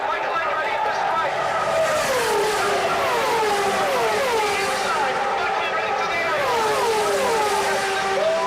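Indy race cars roaring wheel to wheel down the straightaway at the 2000 Michigan 500, a continuous loud engine howl with rising and falling pitch sweeps as cars pass, under a commentator's voice.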